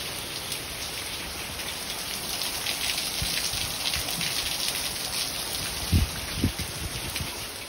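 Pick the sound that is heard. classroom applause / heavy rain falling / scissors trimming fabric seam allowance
heavy rain falling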